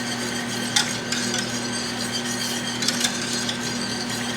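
Onions, butter and flour whisked together in a pot, with soft scraping and stirring strokes over a steady background hum, fairly quiet.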